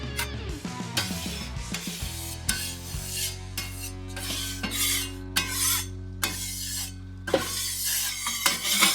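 A metal scraper rasps across a 22-inch griddle accessory set on a Weber kettle grill in steady, repeated strokes, close and moderately loud, with no talking.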